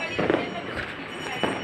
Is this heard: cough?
no